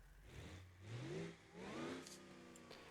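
A 6-liter V8 diesel in a Grand Marshal car in BeamNG.Drive revs up twice in quick swells, each rising in pitch and then falling back to a low idle, fairly quiet.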